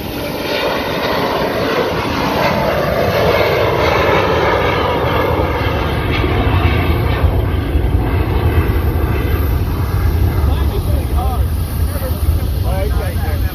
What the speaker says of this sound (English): He's going to come around though and do a flyby.